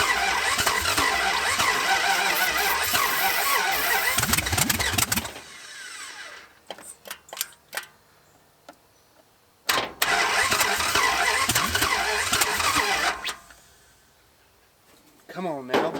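A Dodge Charger's engine, crushed and seized for decades, cranks and catches after an idle screw adjustment, then runs roughly for several seconds, stumbles and dies, and roars again briefly before cutting out, with short pauses of near silence between bursts.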